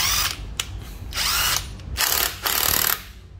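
Japanese cordless power drill running in several bursts, each whirring spell of a second or so cut by brief pauses, loud and close with no talk.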